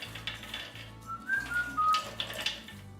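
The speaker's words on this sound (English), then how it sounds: "If you whistle while you work, it makes work that much better." A person whistles a short tune while working in a home kitchen making almond butter with a food processor, the melody standing out clearly over a low steady motor hum.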